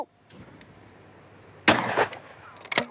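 Shotgun fired at a clay target on a clay shooting ground, one sharp loud report followed by a short decaying tail, then a second brief crack near the end, with quiet outdoor ambience between.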